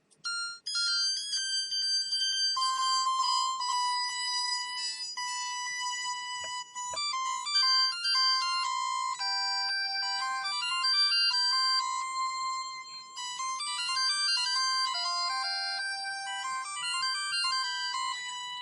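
A bright, bell-like synthesizer plays a steady stream of high, chiming notes in a quick melodic pattern, fairly quiet and alone.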